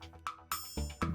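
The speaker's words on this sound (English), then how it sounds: "Listen for the tone of bells ringing" Bright bell tones ring in a short rhythmic pattern in the Rhythm Heaven Groove video game, four crisp strikes roughly evenly spaced, each with a ringing overtone tail.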